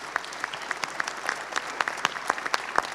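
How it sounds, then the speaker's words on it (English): Audience applause for panel speakers at a nuclear energy conference session on small modular and advanced reactors, a steady patter of clapping hands with sharp individual claps standing out, moderately distant and continuing evenly for several seconds without talk. "I would like to conclude the panel with a big applause to the speakers"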